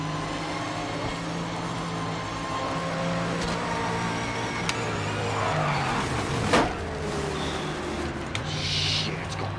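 A race car engine in Project Motor Racing holds a steady droning hum with shifting harmonic tones and brief sharp clicks and knocks, all close and continuous.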